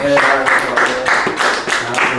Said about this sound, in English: Can we sir. get a round of applause, everybody?